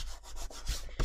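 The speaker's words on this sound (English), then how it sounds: "I've had a bit squidge out at top, so we'll rub that off." Excess glue is rubbed off paper in a quick, close, soft scuffing burst lasting about a second, with a few back-and-forth strokes.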